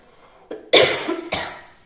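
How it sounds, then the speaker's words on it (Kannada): A person coughs hard in a few bursts, irritated by the pungent dust of maize leaves while cutting the crop by hand in a village field. Close and fairly loud, the coughs arrive in two main clusters with no talk between them. "ಆ್ಯಕ್ಚುಲಿ ಕೆಮ್ಮು ಬಂದ್ಬಿಟ್ಟೈತೆ ನನಗೆ"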